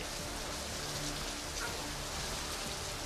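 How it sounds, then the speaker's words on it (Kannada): Heavy continuous downpour during widespread Karnataka rains, a dense, unbroken roar of rain on surfaces that holds steady and loud from start to finish, with no voices. "ನಿರಂತರವಾಗಿ ಜಡಿ ಮಳೆ ಸುರಿತಾ ಇದೆ"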